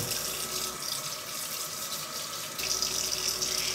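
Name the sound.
rinsing jumbo shrimp under running tap water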